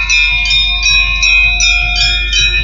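A small hand bell rings steadily in repeated bright strokes during a Shrimad Bhagwat Katha recitation about the Govardhan leela, loud and close, with a low drone sustained underneath and no speech.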